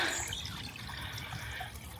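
A small babbling brook gives steady, close flowing and trickling water with light splashes, continuous throughout with no talking.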